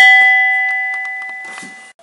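A railway signal box block bell gives a single clear, ringing strike that decays slowly, with faint clicks and handling sounds of the signalling instruments nearby.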